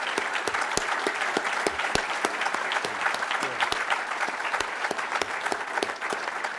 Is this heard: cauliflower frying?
no